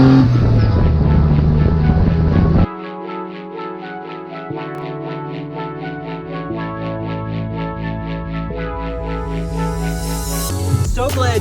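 Homemade off-road buggy powered by a swapped-in Mitsubishi Mirage engine drives along, its loud, close motor holding a steady drone with an abrupt drop in pitch near three seconds, then climbing again as it pulls through the gear.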